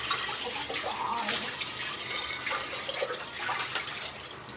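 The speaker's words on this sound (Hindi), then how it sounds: "मेरे लिए वो बर्तन मांजना है" Cold tap water runs steadily into a sink while dishes are washed, a soft continuous splashing close by with faint clinks.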